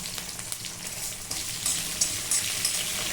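Urad dal and cumin seeds frying in a pan for a coriander chutney, giving a steady, close sizzle and crackle that runs alone throughout with a few brighter pops.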